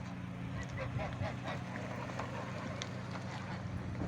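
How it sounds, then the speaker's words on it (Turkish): Geese honk faintly and repeatedly in the distance over a constant low rumble of wind or water. "Bunlar sürü gazı bunlar."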